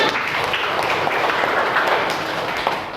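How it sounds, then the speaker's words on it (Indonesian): Classroom applause as students clap together, a dense, steady patter of many hands filling the room at close range with no pauses. "tepuk tangan untuk kita semuanya"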